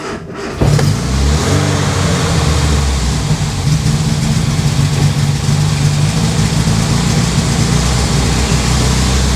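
A Riley Kestrel 1300 car engine starts with a burst, then settles into a loud, steady, fairly high rev that holds close to the microphone without any talking.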